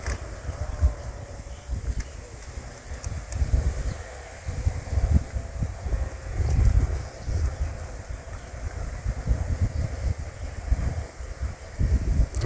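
A loud electric fan runs steadily with a broad, rumbling whoosh and low buffeting thumps, like wind against a microphone, with no talking.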